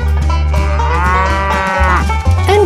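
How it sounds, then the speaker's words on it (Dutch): A cow moos loudly and close up in one long, drawn-out call with a dip near the end, standing alone over a steady low drone and with no voices. "Het dier op de puzzel is een koe."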